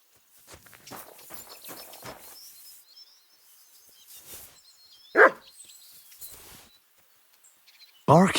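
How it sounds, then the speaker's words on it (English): A dog barks in the medieval role-playing game Kingdom Come: Deliverance 2, two sharp loud barks rising out of quieter footsteps and faint birdsong, the second bark coming near the end. "Barking?"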